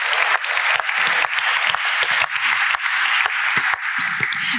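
Loud, dense audience applause at an award ceremony in Aachen, continuous for over four seconds with sharp individual claps close by.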